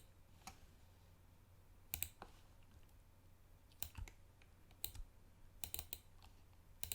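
Fingers type a few keys on a computer keyboard while working in Photoshop, giving sparse, light clicks with short bursts of two or three taps against a low hum.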